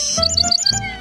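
Birds chirping in a forest: a quick run of bright, repeated tweets sounding close and clear, with no voices.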